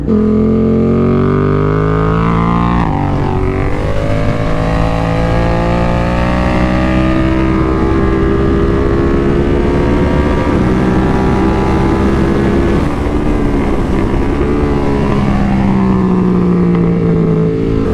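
A Triumph-style F900R race motorcycle on its first track outing, set up with front and rear preload, runs loud and close, its engine note rising and falling steadily through gear changes with no talk over it.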